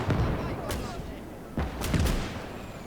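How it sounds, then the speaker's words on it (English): Anti-aircraft guns and artillery fire in the World War II game Call to Arms: Gates of Hell on a Finnish battlefield, a few heavy distant booms and sharper bangs over a continuous rumble of battle. "I think the little hits are anti-aircraft, the big hits are artillery"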